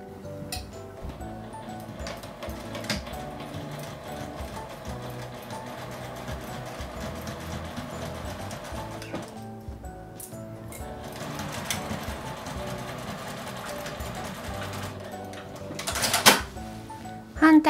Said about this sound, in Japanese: 反対側も同じように縫います。